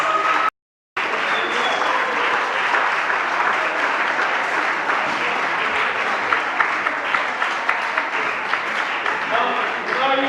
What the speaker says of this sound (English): Please give Professor Babatunde Asaka a round of applause.